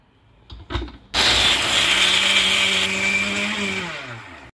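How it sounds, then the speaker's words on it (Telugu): Mixer grinder blending coconut in a jar: a few brief clunks as it is set up, then the motor starts abruptly into a loud, steady whirring grind that holds for several seconds before winding down. "ఇప్పుడు దీన్ని మనం మిక్సీ వేసుకోవాలి"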